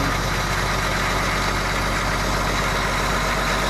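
A cement truck's diesel engine idling at about 1,000 rpm while warming up, a loud, steady, unbroken rumble close by, with no voices over it.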